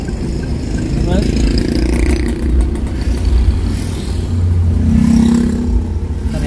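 A car engine hums in a steady, low drone from inside the cabin while the driver is at the wheel, with mild swells in revs, under continuous talk.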